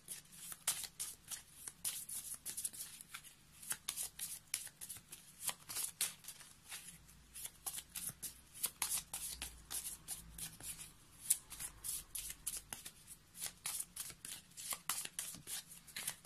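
Oracle cards are shuffled by hand in fast, repeated riffling bursts that continue steadily for the whole stretch, close and fairly quiet, with no talking over them.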